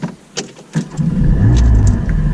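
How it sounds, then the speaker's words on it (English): A Porsche 718 Cayman GT4 engine cranks over and catches, settling into a loud, steady rumbling idle close by after a few brief clicks and clunks. "So, engine start, 718 GT4."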